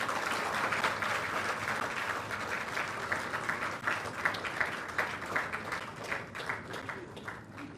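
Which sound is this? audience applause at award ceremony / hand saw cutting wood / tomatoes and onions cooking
audience applause at award ceremony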